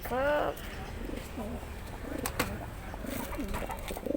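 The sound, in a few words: pigeons cooing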